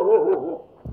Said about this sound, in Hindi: गांव में पाला पालतू कुत्ता अलर्ट हो गया और अपने गुस्सा का इजहार करता हुआ और भौं भौं करके भुगता हुआ